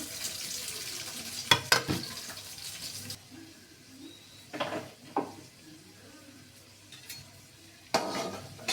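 Green chillies and then onion fry in a pan on the stove, a low sizzle under sharp spoon scrapes and clinks against the metal, with several bursts of stirring spaced through the stretch and no talk.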